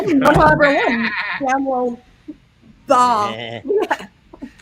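A voice imitates a sheep, giving loud wavering bleats in two bursts, with a chuckle and some talk-like sounds mixed in.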